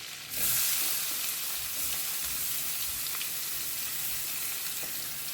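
Two chopped onions hit melted butter in a pan for restaurant-style pav bhaji, setting off a sudden loud sizzle that settles into a dense, even frying hiss.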